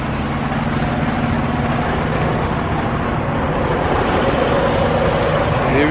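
A big rig truck runs loud right alongside a parked truck, giving a dense, steady diesel rumble with a low drone that holds level throughout, close and without speech.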